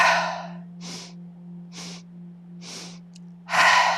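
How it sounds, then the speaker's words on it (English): Breathing exercise in a yoga session: a series of short sharp sniffing inhales with a steady hum underneath, then a louder, fuller breath to finish, close to the mic. "long full exhale"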